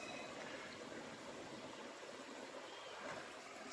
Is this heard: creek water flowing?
yes